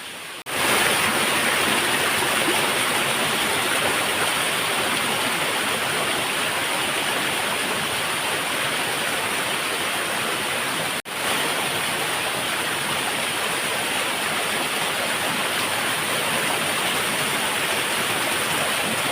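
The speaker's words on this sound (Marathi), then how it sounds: "इथून हा बघ या साईडला पण आहे धबधबा तीन धबधबे आहेत छोटे" A small forest waterfall in the rainy season pours with a loud, steady broadband rush, constant throughout with one brief dropout.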